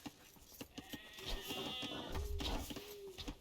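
Sheep bleating in the strategy game Age of Empires, several wavering bleats over busy game clicks and thuds, fairly close and clear.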